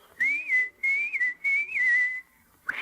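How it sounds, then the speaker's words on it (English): A person whistles a wavering sustained tune in several phrases with short breaks, close and clear, in a 1939 radio adaptation of Pinocchio. "anytime you need me, you know, just whistle like this"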